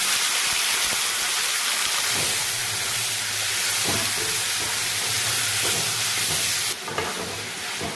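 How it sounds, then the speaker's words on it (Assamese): Duck meat frying in mustard oil with a dried chili, a steady loud sizzle and hiss filling the whole stretch, with occasional soft stirring clatters and a brief dip near the end. "ইয়াতে শুকান জলকীয়া এটা পেলাই দিলোঁ আৰু তাতে এয়া মাংসখিনি যে মঠি থৈছিলোঁ সানি থৈছিলোঁ ইয়াতে বহাই দিলোঁ"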